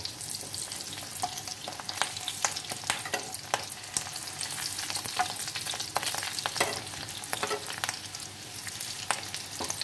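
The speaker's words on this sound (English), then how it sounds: "Fry them till they are golden brown." Fish egg fritters frying in hot oil make a steady, close crackling sizzle with frequent small pops throughout, no voices over it.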